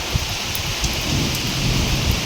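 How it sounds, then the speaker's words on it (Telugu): Steady, dense rain pours down close by, with low thunder rumbling beneath the constant hiss. "వర్షం భయంకరంగా పడుతుంది"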